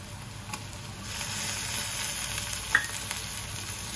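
Onion and tomato sautéing in a pan for a traditional kulith pithale, a soft, steady sizzle with a few faint stirring clinks, heard alone.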